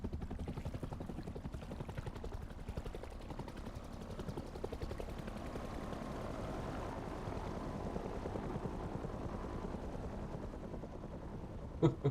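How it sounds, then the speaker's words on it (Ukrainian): A helicopter in the video game Rust makes a steady, dense rotor chop with a low rumble that holds for the whole stretch, joined by a sharp crack near the end. "Так, від вертольота ми врятувались"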